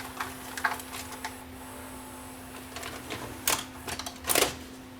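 Samsung SV 5000 VCR ejecting a tape, a few soft mechanical clicks and whirs followed by two brief louder clunks near the end, close and quiet.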